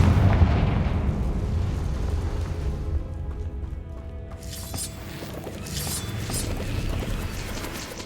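Confringo spell explosions in Hogwarts Legacy, heavy low booms and rumbling blasts filling the opening seconds, then a quieter stretch followed by bursts of crackling debris and scattered impacts.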